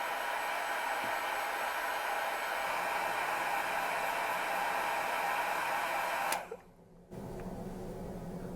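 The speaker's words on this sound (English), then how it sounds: "So I'm gonna use my heat gun" Heat gun blowing hot air onto a 51.2V LiFePO4 server rack battery, a loud steady close-up hiss and whir that cuts off abruptly near the end, leaving a quieter hum.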